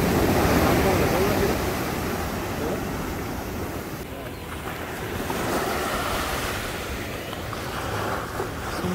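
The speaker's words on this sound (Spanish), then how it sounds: "Ya ves cómo llega el mar." Sea surf rolls steadily onto the beach at Playa de Santiago in Manzanillo, Colima, a continuous broad wash of breaking waves with heavy wind buffeting the microphone.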